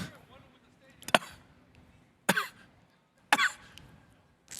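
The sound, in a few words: person coughing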